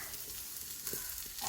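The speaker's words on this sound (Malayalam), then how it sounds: "നന്നായി ഇളക്കി വറുത്തെടുക്കാം." Grated coconut stirred and roasted in a pan for varutharacha sambar, a soft dry sizzle with light scraping stirs, quiet and close with no voices.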